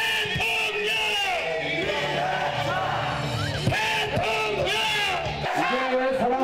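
Supporters at a South Korean presidential election rally cheer and yell as a candidate arrives, a loud crowd roar with whoops and shouts mixed with a voice over a loudspeaker.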